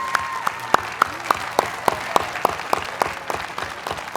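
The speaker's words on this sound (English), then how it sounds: "Please join me in a round of applause to thank him for his excellent service" Steady applause from a crowd at a university commencement ceremony, with sharp individual claps standing out in an even rhythm, fairly close and continuous throughout.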